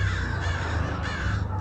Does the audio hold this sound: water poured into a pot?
no